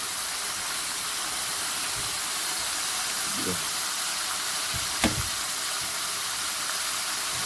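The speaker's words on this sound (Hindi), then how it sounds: "इसको बस इसी तरह से भूनना है, इस मसाले को" Masala with turmeric and salt frying in a karahi, a constant close sizzling hiss broken by a couple of brief stirring scrapes or clinks against the pan.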